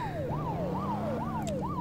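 Ambulance siren in the video game Police Car Chase Cop Simulator 3D, a steady rising-and-falling wail repeating about every half second over engine rumble, with no voices.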